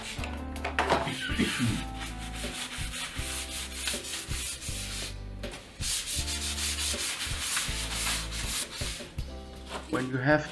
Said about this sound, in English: we have to sand it first